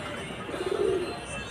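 Pigeon cooing near a net: one brief, soft, low coo rising and fading over steady background noise.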